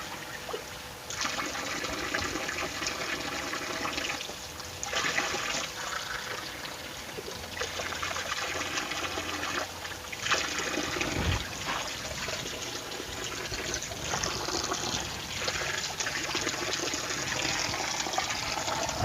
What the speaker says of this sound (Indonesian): airnya sudah keluar ya, kencang ya, walaupun mengandalkan tekanan gravitasi dari toren ya ke bawah.